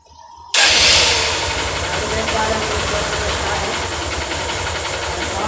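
A Honda CB Shine motorcycle with a rebuilt engine starts abruptly and settles into a steady, even running note with a close, loud exhaust hum and no talking over it.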